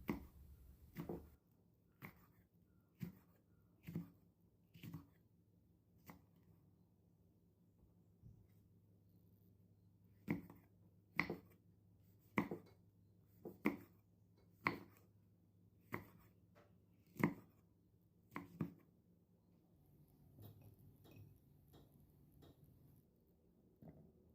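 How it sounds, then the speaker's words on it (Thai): Crisp knife chops slicing red chili peppers diagonally on a cutting board, about fifteen sharp taps in uneven bursts with short pauses, close up with no talking. "นำพริกชี้ฟ้าแดงมาหั่นเฉียงไม่ลุงใช้ 2 เม็ดนะคะ"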